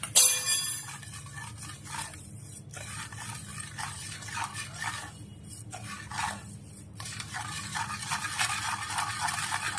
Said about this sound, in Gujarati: ઓગળી જાય ત્યાં સુધી આપણે એને હલાવતા રહીશું.